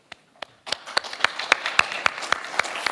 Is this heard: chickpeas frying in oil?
no